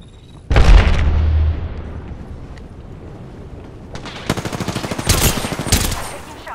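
Weapon fire in the battle royale game Apex Legends: a loud opening blast with a heavy low boom, a fading rumble, then a closer burst of rapid repeated shots near the end.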